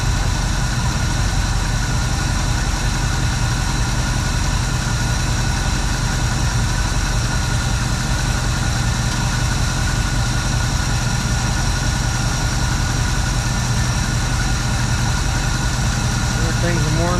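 A 1970 Ford Torino engine idling smoothly after carburetor work, a steady, loud, close rumble with no change in pace, with someone talking over it.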